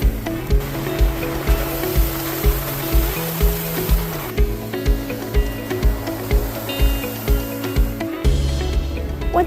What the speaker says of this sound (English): you'll find yourself primarily driving in an old creek bed.